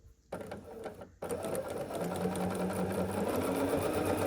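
A sewing machine stitches half square triangles for a quilt block, starting with brief stop-and-start bursts and then running in a loud, continuous whir.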